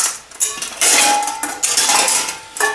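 Stainless steel pots, pans and lids clatter and clink together close by, a few sharp bright clanks and rattles in quick succession.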